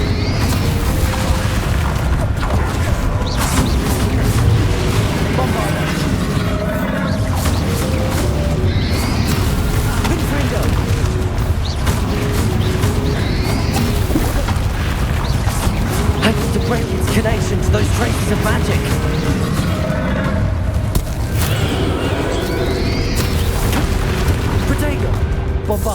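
Repeated Confringo fire-spell blasts in Hogwarts Legacy during a boss fight, loud booming bursts layered over continuous dense battle noise and music, with character voices calling out spells.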